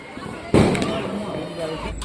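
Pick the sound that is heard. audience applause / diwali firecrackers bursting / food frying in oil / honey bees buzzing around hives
diwali firecrackers bursting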